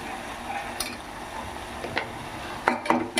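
Stirring turmeric and chili powder into a cooking pot for kurma, with soft scraping taps of a spoon against the vessel that grow louder and closer toward the end over a low kitchen background.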